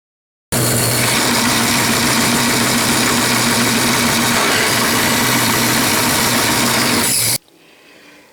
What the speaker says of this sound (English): But I'm going to go over quickly now and saw this